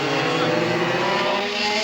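Go-kart engines race past as a loud, sustained, high buzzing drone, close and steady without pause, with no speech over it.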